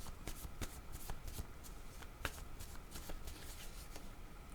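A deck of cards is shuffled for a card reading, with rapid, riffling flutters and soft slaps repeating close by at a low, quiet level.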